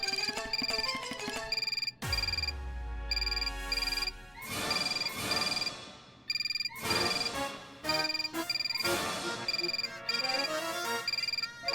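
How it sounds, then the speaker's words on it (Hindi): A telephone ringing on a desk plays an electronic melodic ringtone in repeated phrases with short gaps, clear and prominent, joined by a deep booming accent early on. "ये फोन मेरा है। हमारी डेस्क पे बजा।"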